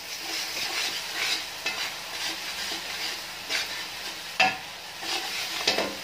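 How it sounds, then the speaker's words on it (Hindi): Garlic and ginger fry in a pan for homemade soya chunks, a steady sizzle broken by scraping strokes of stirring that recur every second or so at close range. "अब लहसुन अदरक डालने के बाद इसको थोड़ा सा भूनेंगे ताकि लहसुन अदरक की स्मेल खत्म हो जाए।"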